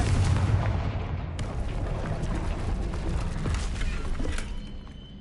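A Confringo blasting-spell explosion in Hogwarts Legacy, a low rumbling boom with a sustained crackling roar that fades slowly over several seconds.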